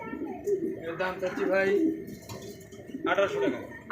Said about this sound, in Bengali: দেখতে পাচ্ছেন এক জোড়া বার হোমা কবুতর